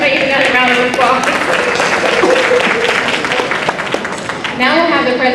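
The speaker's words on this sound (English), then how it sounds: "let's give her another round of applause" Sustained applause from an audience at an NAACP Mother of the Year event, dense steady clapping throughout, with a voice speaking over it near the end.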